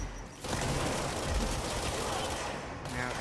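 Machine gun fire in a video game, a sustained rapid burst of shots lasting about two and a half seconds, fairly faint and steady, set against low background game noise.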